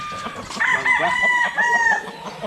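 A White Hatch Muff gamefowl rooster, crossed with White Laret, crows loudly and close, a single drawn-out cock-a-doodle-doo with a rising then sustained call, with faint background noise.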